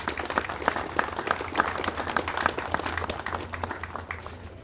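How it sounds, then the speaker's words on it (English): A crowd of guests applauds at a Marine opening ceremony, even sustained clapping filling the hall at moderate loudness, with a low steady hum beneath. "a round of applause."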